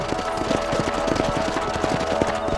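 Steady, rhythmic clip-clop of horse hooves trotting at a brisk pace in the video game Red Dead Redemption, close and even, with a low background hum.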